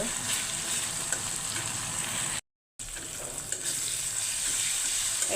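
Onion, ginger, garlic and ground spices fry in hot oil with a steady, moderately loud sizzle, interrupted by a brief moment of total silence midway.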